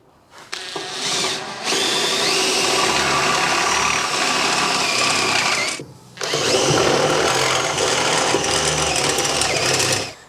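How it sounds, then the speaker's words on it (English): A power drill with a step bit whines steadily as it bores out a metal tube with cutting fluid, pausing briefly once before resuming, loud and close with no speech. "Bit of cutting fluid, and we'll drill it out."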